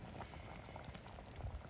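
Beef simmering in gravy bubbles quietly and steadily, soft irregular pops and blips close by with no voices, low in level throughout.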